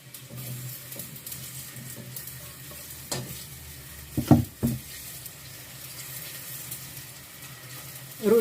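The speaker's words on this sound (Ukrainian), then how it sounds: "олійка підігрілась, кидаємо цибулю. Просто у каструльку." Steady sizzling of onion frying in hot oil in a pot, with stirring scrapes and a few clunks of a utensil against the pot.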